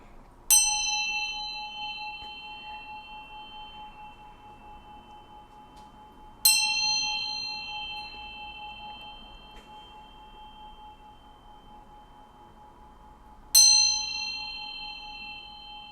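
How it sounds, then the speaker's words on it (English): A single bell rings three times at spaced intervals, each bright, clear strike ringing out and slowly fading into near silence before the next, with no talk. "I'm going to ring this bell here to bring in some good vibes"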